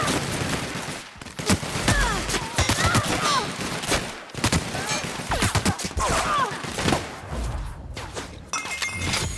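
Gunfire in the video game The Outer Worlds, rapid bursts of shots mixed with shattering and clinking impacts, dense and busy, with brief speech-like voices in the game mix.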